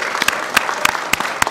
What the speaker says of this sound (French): Merci d'applaudir pour Mireille.